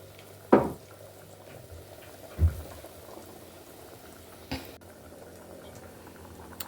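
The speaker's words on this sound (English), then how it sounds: "This is the used oil and it's going to the end now. So let's fry them." Food frying in used cooking oil in a village kitchen, with a low bubbling sizzle and a few sharp splashes and clatters, heard up close with no talking.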